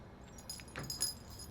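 Keys jangle in a short, light metallic rattle, close and moderately quiet, fetched in a garage setting during work on a Duramax-swapped squarebody truck.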